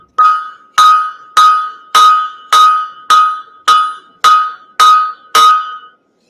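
Hot steel is hammered on an anvil edge to slot its end, ringing out in ten sharp, evenly spaced metallic strikes, loud and close, each one followed by a brief decaying clang.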